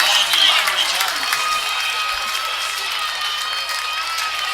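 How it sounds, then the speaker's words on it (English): A football stadium crowd roars and cheers during a long run, a loud, sustained wash of voices and applause heard from within the stands. "He's got this crowd going."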